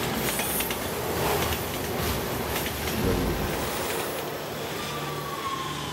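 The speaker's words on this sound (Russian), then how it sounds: "Ну поезд, хрен с ним, он уже по другой линии идет" A train in the video game Resident Evil 6 rumbles past with a steady roar, clattering wheels and a faint metallic squeal, loud and continuous without speech.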